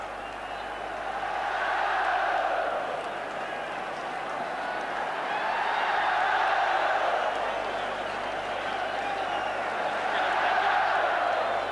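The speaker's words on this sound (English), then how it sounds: "Down come the Celtic players, deservedly getting their individual cheer." A large stadium crowd cheers Celtic players during 1988 cup celebrations, a steady roar that swells and eases in broad waves for the whole stretch, distant and wide, with a faint commentary voice beneath.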